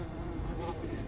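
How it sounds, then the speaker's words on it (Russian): Flies buzzing in the ruined city of the video game Metro: Last Light, a faint, steady insect drone with a low hum beneath it, heard alone for about a second. "Мух много."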